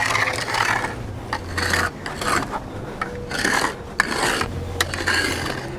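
A flathead screwdriver scores along the edge of artificial grass laid beside a path, making close, repeated rasping scrapes in uneven strokes with brief pauses between them.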